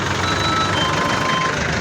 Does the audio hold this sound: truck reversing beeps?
yes